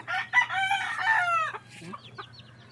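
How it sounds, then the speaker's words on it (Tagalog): A nearby gamecock rooster crows loudly in one long call, followed by softer clucking from chickens. "dami ng manok. Ayan, manok."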